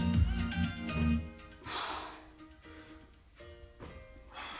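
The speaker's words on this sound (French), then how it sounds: "J'inspire sur la descente. Je souffle quand je monte." Heavy exhaled puffs and breaths from a person doing push-ups during an upper-body workout, close and fairly soft, rising and falling in a few uneven bursts.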